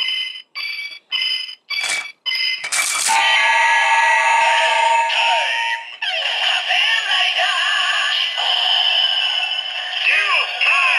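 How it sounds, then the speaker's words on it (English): Electronic standby jingle from a Kamen Rider Zi-O DX Trinity Ridewatch toy, a few short beeps followed by a sustained, bright looping synthesized tune with voice-like chanting, loud and close. "We get Gates' standby noise."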